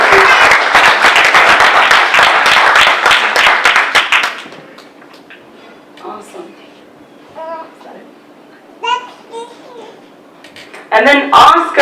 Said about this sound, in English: Let's give it a round of applause for Janacy.